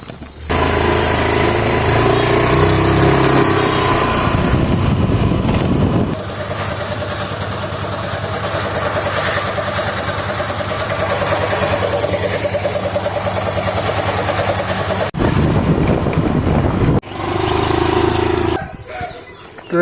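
A vehicle engine running steadily, a loud continuous rumble with a few abrupt cuts and shifts, with faint voices underneath.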